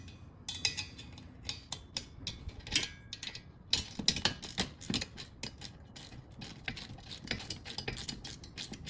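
Ratchet snugging bolts on a Sparco R333 seat in a 2022 WRX, a 13 mm socket clicking in short uneven bursts with small metallic clinks, close and moderately quiet, no speech.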